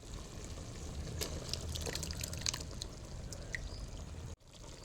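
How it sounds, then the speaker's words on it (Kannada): Masala being poured into cooked chicken in a home village kitchen, a soft steady liquid pour running continuously with a few light clinks, close and moderately quiet, ending abruptly near the end. "ಇದಕ್ಕೆ ಇವಾಗ ಮಸಾಲವನ್ನು ಹಾಕ್ತೇನೆ"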